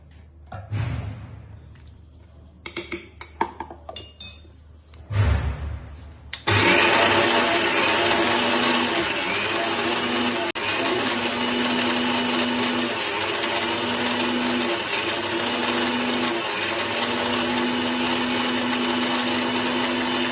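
Soaked black gram ground with a spoonful of water in a kitchen mixer grinder: after a few clatters and bumps, a loud steady motor whir starts and runs on, with a gently pulsing, rising and falling grinding tone.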